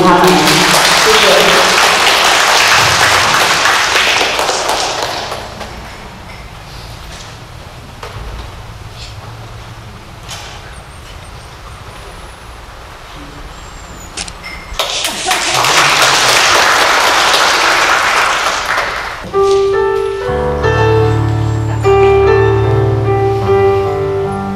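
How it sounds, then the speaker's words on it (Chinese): An audience in a Catholic church in Dounan claps loudly to welcome a visiting choir, in two long bursts of applause with speech between them and music starting near the end. "以下请大家的掌声来欢迎他们"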